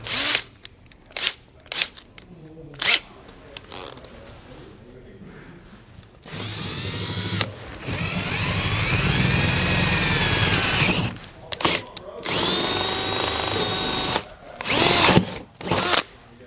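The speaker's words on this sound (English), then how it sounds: "We're gonna increase it to the larger size here and then finish drilling that out." A power drill enlarges a hole on a 2020 Mercedes RV in several long bursts, whining and grinding close up, separated by short pauses and a few clicks and handling sounds.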